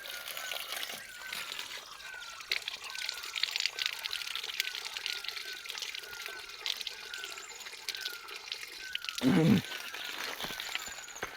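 Water runs from an outdoor tap along an uphill village path, a steady splashing trickle heard close by, with a brief heavier gush near the end.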